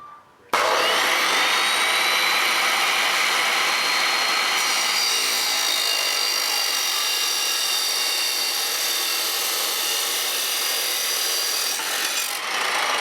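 Aluminium bar being sawn into pieces for off-grid busbars, a loud, close, continuous grinding rasp with a high metallic whine that runs almost unbroken for the whole stretch.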